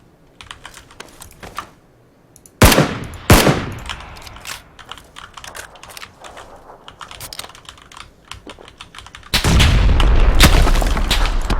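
Gunfire in the battle royale game PUBG: a couple of sharp, loud shots ring out, followed by scattered smaller reports and then a sustained roaring volley near the end, with keyboard clatter ticking underneath throughout.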